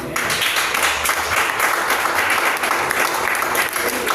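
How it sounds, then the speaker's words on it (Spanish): Loud, dense applause from a church congregation at a worship service, steady and sustained throughout without pauses, with no speech over it. "Denle un aplauso al Señor."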